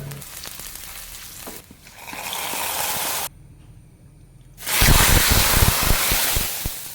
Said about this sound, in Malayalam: ഇനി നമുക്കിതിലേക്ക് കടുക് താളിച്ചൊഴിക്കാം